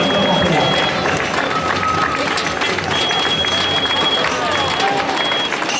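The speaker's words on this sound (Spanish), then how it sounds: "¡Ese aplauso fuerte, porque se llenan los corredores!" A large crowd applauds marathon runners, clapping and cheering steadily and loudly outdoors, with a continuous wash of applause and voices throughout.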